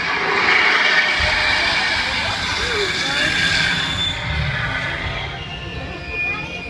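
A train rolling along at Disneyland Paris, with a sustained rumble and rail noise, faint wheel squeal and a steady roar that eases slightly toward the end, fairly close and loud.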